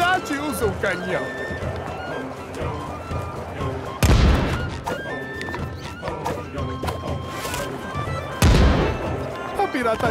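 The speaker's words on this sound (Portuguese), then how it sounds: "Como um pirata de verdade, usa um canhão." Two heavy booming cannon blasts in SpongeBob SquarePants: The Cosmic Shake ring out several seconds apart over busy game music and speaking voices.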